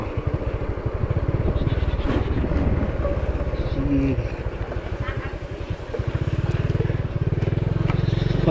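A motorbike is ridden along a rough, difficult road, its engine a steady close throbbing drone with wind buffeting the microphone, the pitch shifting as the rider slows and speeds up, with a voice talking over it.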